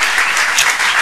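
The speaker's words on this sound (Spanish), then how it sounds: "Pues dar un aplauso a Óscar también," A short, loud burst of dense applause from an audience at a science outreach event, clapping for Óscar, a volunteer, thick and continuous without a break.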